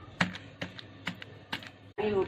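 A series of sharp knocking taps, about five irregular hits, close and fairly quiet, as a block of palm jaggery is broken into small pieces, followed by a brief voice.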